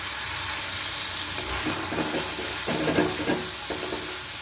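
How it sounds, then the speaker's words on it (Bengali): Ginger-garlic paste fries in a pan as cumin powder goes in, with a continuous sizzle overlaid by repeated scraping and clinking of a spoon stirring in the middle and latter part; no speech. "আদা রসুনটা ভালো করে ভাজা হয়ে গেলে আমি এর মধ্যে দিয়ে দিচ্ছি জিরে গুঁড়ো,"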